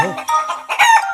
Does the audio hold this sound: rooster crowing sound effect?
yes